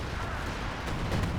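Artillery strike in Company of Heroes 2 gives a brief, dense rumble of booming blasts that carries through the whole short moment, with no voices.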